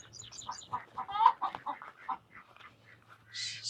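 Chickens clucking on a farm, several birds calling in short bursts with a squawk midway and a shriller burst at the end, under a steady low hum, fairly close.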